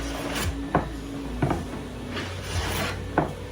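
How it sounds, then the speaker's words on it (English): A hand plane takes thin shavings off a rough milled wooden board in slow, repeated rasping strokes, each pass a brief close scrape over a steady background hum. "now we're going to start taking real small shavings, real thin"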